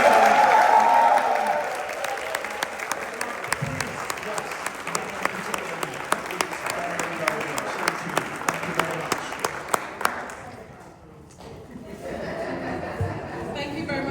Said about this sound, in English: But can we just say a round of applause?